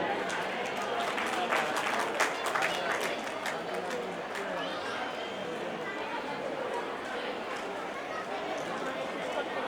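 Audience applause at a community event in Mumbai crackles in a dense patter at the start, then thins and fades into a murmuring crowd with voices talking.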